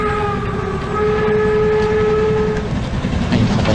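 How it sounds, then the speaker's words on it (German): A train passes in The Night of the Rabbit adventure game, a steady rolling rumble with sustained horn-like tones that fade partway through, loud and continuous with no talking. "Ein vorbeizuziehender Zug"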